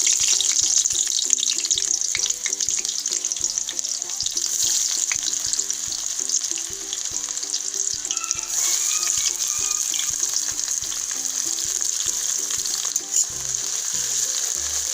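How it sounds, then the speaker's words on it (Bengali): Sliced onions fry in hot oil in a wok with a dried red chilli and bay leaves, a loud continuous sizzle with occasional stirring clatter; faint steady tonal music runs underneath, no talking. "পেঁয়াজটাকে ভালো করে লাল লাল করে ভেজে নেবো আমি।"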